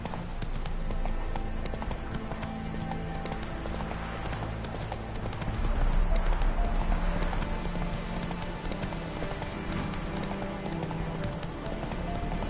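Roach, Geralt's horse in The Witcher 3, gallops steadily with rhythmic hoof clip-clops over a dense game soundscape, close and continuous.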